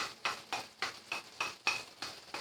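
Shrimp paste is stirred into Bicol Express, spicy pork in coconut milk, in a pan, with a spoon scraping the pan in about eight regular strokes, each with a soft wet hiss, heard close by and fairly quiet.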